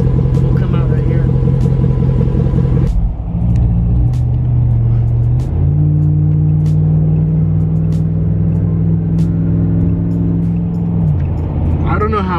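A 2019 Ram 1500 pickup with a cat-back exhaust delete rumbles loud and close, and its engine pitch rises and holds during revving. Faint clicks sound over the exhaust drone.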